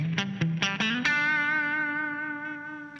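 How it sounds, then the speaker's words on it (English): Spring reverb on a guitar amp preset: several plucked guitar notes with a distorted tone, then a sustained chord ringing out and decaying slowly with a reverberant tail. "I would like a spring reverb."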